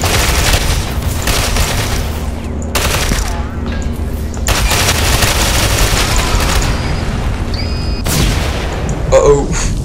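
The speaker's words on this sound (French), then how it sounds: "Oh merde, la grenade, j'avais pas vu. Oh, oh le con. Oh, c'était violent." Grenade blast and rapid automatic gunfire in the online shooter Ghost Recon Online, dense and loud, with bursts of shots, heavy booms and short pauses between volleys.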